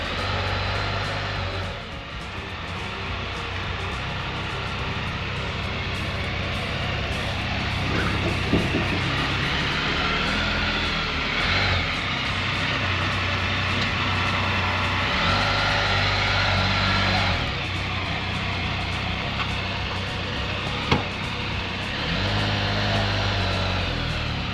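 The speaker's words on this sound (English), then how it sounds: "Ah, the Can-Am. Here she comes." Can-Am off-road vehicle drawing near, its engine a steady loud drone with shifting revs and a low hum throughout, other mechanical noise mixed in, continuous for over twenty seconds.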